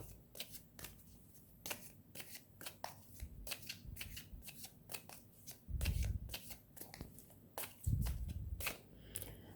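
Tarot-style cards for a fortune-telling reading are shuffled by hand close up, a quiet run of crisp riffling slaps and flicks with a couple of heavier thumps as the deck is tapped, and no voices.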